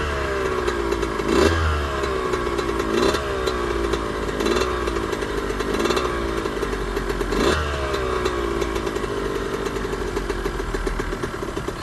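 A dirt bike engine idles unevenly and close by, a loud continuous putter with periodic surges and dips every second or two, as if struggling to stay running, with no voices.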